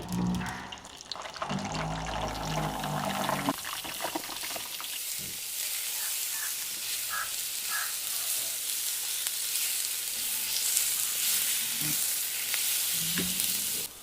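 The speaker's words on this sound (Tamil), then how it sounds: "இப்போ நாங்கள் கத்தரிக்காவை போட்டு பொரிச்செடுப்போம்" Continuous sizzling and crackling of eggplant frying in hot oil, with a few clinks and stirring noises early on; no talking.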